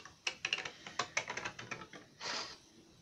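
Scissors snip through shrink plastic sheet along the outer edge of an earring shape, a quick run of light crisp clicks and cuts followed by a short sliding rasp, close and quiet.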